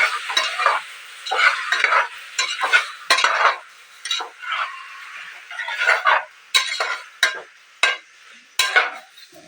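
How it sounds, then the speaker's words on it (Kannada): Masala frying with turmeric and salt in a pan for chicken gravy, repeated spoon strokes scraping and clattering in bursts over a light sizzle, close and clear with no voices. "ಹಾಗೆ ಇದಕ್ಕೆ ಅರಿಶಿನ, ಜೊತೆಗೆ ಉಪ್ಪು ಹಾಕೊಂಡು ಫ್ರೈ ಮಾಡ್ಕೊಳ್ತೀನಿ."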